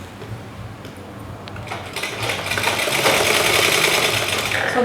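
A sewing machine stitching a chudithar top, its steady mechanical whir running alone and growing louder and busier partway through.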